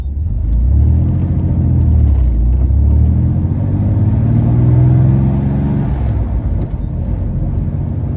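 A Chevrolet Corvair engine rumbles and revs as the car pulls away, pitch rising through the gears, loud and close, with no voices.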